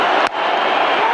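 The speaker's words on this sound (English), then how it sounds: "The crowd's going nuts here." A cricket crowd roars as Brendon McCullum reaches his century. The cheering is dense and loud, with a brief sharp thud near the start and a commentator's voice faintly mixed in.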